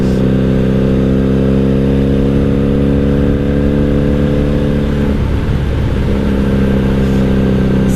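A 1997 Honda Magna VF750C muscle-cruiser motorcycle with a Vance and Hines exhaust runs loud and close, holding a steady deep rumble before the engine note shifts and revs briefly near the end.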